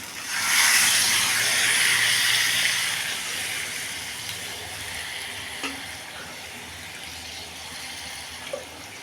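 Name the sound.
hot water poured into cooking pot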